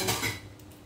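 A plate clinks against kitchenware, a short dish-and-cutlery clatter near the start that fades quickly, taken up to hold freshly cooked bread.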